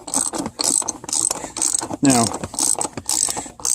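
A ratchet clicks in quick bursts while tightening a paper pool filter cartridge, loud and close, with a short spoken word partway through.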